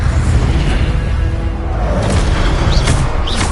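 The Incendio fire spell in Hogwarts Legacy erupts as a loud, sustained whooshing roar of flame with low rumbling, alone and without talk.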